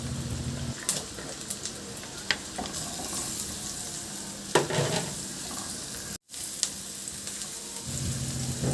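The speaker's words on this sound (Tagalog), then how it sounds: "igisa ko na yung bawang. Isunod ko na rin yung sibuyas" Garlic and onion sautéing in a pan with oil and melted butter give a steady sizzle, broken by occasional clinks and scrapes of stirring.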